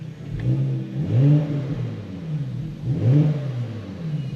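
Porsche Panamera Sport Turismo 4S with its exhaust valves opened, revving in two rising and falling swells of deep engine roar, close and steady, with no talking.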